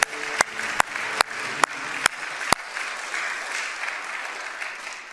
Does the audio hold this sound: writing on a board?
no